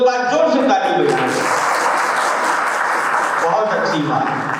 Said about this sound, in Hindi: सब लोग एक बार जोर से ताली बजाएं।